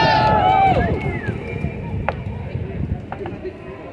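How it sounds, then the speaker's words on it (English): Crowd applause at an outdoor rally, a burst of clapping and cheers with a shouting voice over it at first, fading to scattered claps and murmurs. "Please give Mashayla a round of applause"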